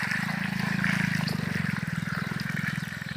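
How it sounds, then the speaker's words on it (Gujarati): Water is poured slowly onto the base of a mango tree, making a continuous close trickling splash over a steady low hum throughout. "હળવે હળવે રેડોમાં પાણી જોવો તમે"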